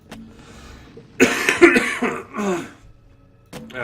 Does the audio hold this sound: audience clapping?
no